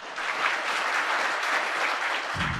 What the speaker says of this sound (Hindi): एक बार जोरदार तालियां बजाएं आप